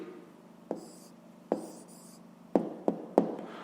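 A pen scratches on paper while an answer to a fifth-grade math exercise is written down, a soft close scribbling with several sharp taps as strokes land, quiet throughout.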